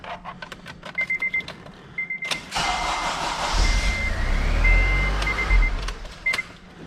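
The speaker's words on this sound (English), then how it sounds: "Let's start it up real quick so you can see how it sounds right now with the starter" A series of quick electronic chimes, then a newly installed starter motor cranks briefly before a 2009 Acura RDX engine catches and idles, with more beeps sounding over it.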